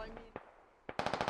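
A gunner in a tactical squad shooter video game opens up with machine gun fire, a rapid burst of five or six sharp shots after two isolated earlier cracks, fairly close and loud against a quiet background.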